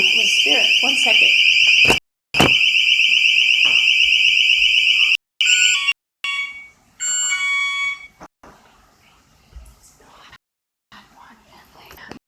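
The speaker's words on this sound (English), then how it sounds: "Whoops, my motion detector went off." A motion detector alarm sounds in loud, steady high-pitched electronic tones that cut off abruptly, restart, then break into shorter chirping beeps before fading to quiet room noise, with soft whispered talk mixed in.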